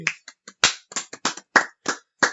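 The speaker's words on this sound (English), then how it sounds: "That was not a big enough clap, Natalie" A string of about nine sharp, close hand claps in an uneven rhythm with short gaps, heard on their own, during a game show after a winner is announced.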